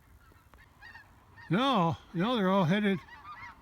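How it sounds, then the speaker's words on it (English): A flock of geese honks overhead heading north, two loud bursts of layered overlapping calls from several birds, with a man's faint speech earlier. "I hear geese."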